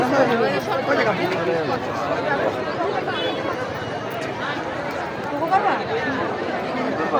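Dense crowd chatter at the packed Khulna University Boishakhi Mela fair, a loud steady babble of many nearby voices with occasional louder calls rising out of the hubbub.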